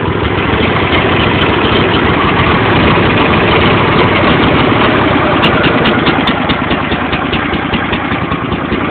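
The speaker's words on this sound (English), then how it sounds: "There's some slow idle." An old engine idles slowly after a cold start with the choke partly pulled, a loud, close, steady low rumble and chug that continues unbroken throughout, with no talk over it.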